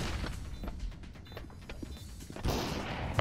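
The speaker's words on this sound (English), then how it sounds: "Deploying flashbang." A flashbang grenade goes off in a video game as one loud, broad burst near the end, after a stretch of scattered clicks and distant shots.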